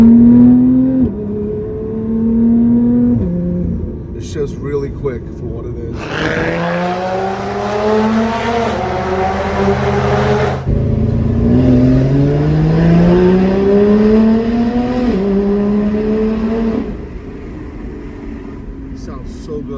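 A stock Lotus Evora 400's Yamaha-tuned Toyota 3.5 engine with Edelbrock supercharger revs up hard several times, pitch climbing and falling, with someone talking over and between the revs.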